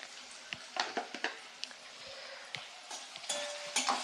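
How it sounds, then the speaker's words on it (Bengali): Sliced onions with a pinch of salt fry in a pan until brown, a soft steady sizzle broken by scattered scrapes and stirring knocks, close and fairly quiet with no talk. "এবার এই পেঁয়াজটা আমি বাদামি করে ভেজে নেব।"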